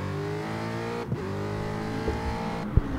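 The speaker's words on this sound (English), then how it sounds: "But the race at Monza underway." Race cars roaring around Monza in a video game racing league race, a steady, loud engine drone rich in harmonics with brief pitch shifts and small clicks, no voices.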